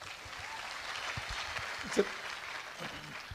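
Audience applause at a Gujarati motivational Q&A talk in Surat, a steady broadband patter of clapping running through the moment with one sharper clap peak near the middle, moderately loud and without clear speech over it.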